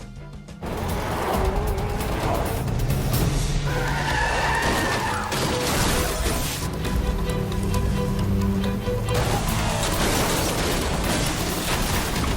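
Loud film car chase with tires skidding and squealing over roaring engines and crashes, a sustained, dense wall of noise throughout as a stolen car flees a station with pursuers close behind.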